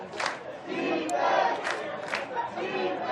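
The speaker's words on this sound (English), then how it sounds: "As the crowd chants defense" A football crowd in San Francisco chanting for defense while their team pressures Vancouver, a loud rhythmic mass chant with rising swells, heard from a distance across the stadium.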